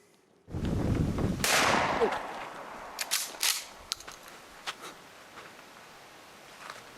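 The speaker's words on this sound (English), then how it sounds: "here's some fine shooting" Sport shooting, with a sharp loud report followed by a second blast and decaying rumble, then several fainter scattered cracks and pops trailing off.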